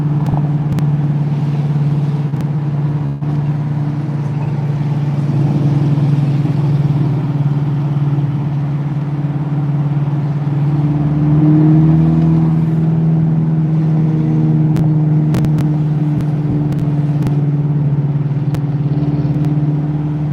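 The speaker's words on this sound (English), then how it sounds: "you guys can kind of hear the exhaust, how it rumbles off the buildings and stuff." A steady low car exhaust rumble echoing off downtown buildings drones on throughout, swelling slightly midway, with occasional clicks and no talking.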